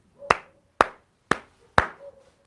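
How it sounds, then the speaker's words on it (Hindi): Four crisp hand claps at an even, unhurried pace, each sharp and close with a short ringing tail in a quiet room, nothing else heard between them. "ताली बजा रहे हैं"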